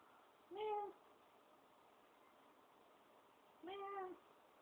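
Two drawn-out cat-like meows, a few seconds apart, sound close and clear over a quiet indoor background; a human voice imitates a cat's meow.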